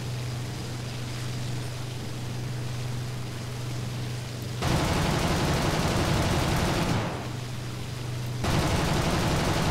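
Machine gun fire from a Bf 109 G2 fighter plane in the War Thunder video game: sustained dense rattling bursts over a steady engine drone, with two long loud volleys, alone without talk.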